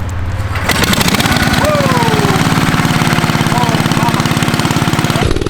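A mini bike fitted with a large $25 flea-market engine runs loud and close, its rough, rapid putter rising as it accelerates and holding steady for several seconds before cutting back near the end.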